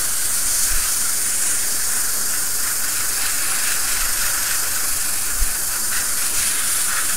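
A steady, loud aerosol hiss of hairspray being sprayed continuously over a 1/35 Tamiya Panzer II model tank ahead of chipping weathering, close up with no talk.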